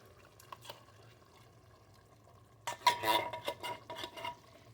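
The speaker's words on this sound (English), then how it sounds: "I'm going to dump the pinto beans in here with the juice and everything" Canned pinto beans and their juice are dumped into a cooking pot with a wet, splashing slosh and clink of metal, loud and close after a quiet stretch of faint background hum, followed by a few lighter clatters.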